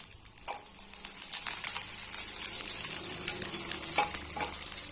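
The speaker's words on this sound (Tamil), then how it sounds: "இந்த கடுகு எல்லாம் பொரிஞ்சிடுச்சு. இதில் ஒரு காஞ்ச மிளகாய் கட் பண்ண சேர்த்துக்கிறேன்" Mustard seeds, dried chili and curry leaves sizzle in hot oil with a steady, bright crackling hiss, close and continuous, with occasional pops and stirring clicks.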